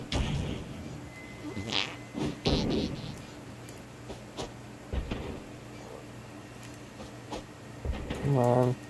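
A cat meows in the South Park: The Fractured but Whole video game, with scattered clicks and soft game sounds, then a short harmonic mew near the end. A voice talks at times.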